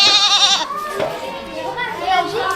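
Goats bleat at a goat breeding farm, several wavering cries from nearby animals mixed with children's voices and talk throughout.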